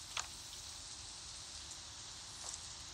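Soft, steady rain patters on a surface at a campsite, a faint continuous hiss broken by a couple of brief, sharper drips.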